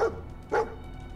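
Two short dog barks in Fallout 4, spaced about half a second apart, fairly close and clear over a low game-ambience bed, with no talk.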